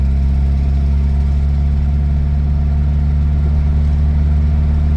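A car engine pulling steadily in fourth gear at around 45 mph, a loud, continuous low drone with an even hum that stays constant throughout.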